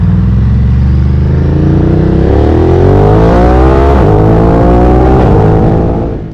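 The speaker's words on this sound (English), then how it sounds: "the revving of the engine and rev matching before the corners with the Terminioni exhaust" A Ducati Monster 937 engine with a Termignoni exhaust revs loudly and close, pitch climbing steadily through the gears, then dropping briefly with rev matching and rising again before fading at the end.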